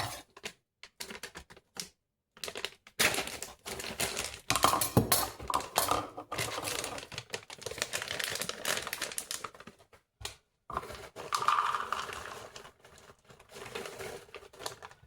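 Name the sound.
knife chopping pecans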